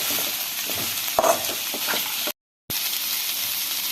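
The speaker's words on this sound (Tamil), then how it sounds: "இப்போ பாலக்கீரை சேர்த்து வதக்கலாம்." Spinach sizzles and crackles as it is sautéed in a hot pan, a close, steady frying hiss with a few stirring clatters, broken by a brief silent gap.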